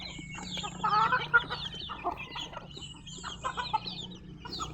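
A large flock of chickens clucks and chatters nearby in a busy, overlapping chorus, with a few sharper squawks rising above a steady background murmur.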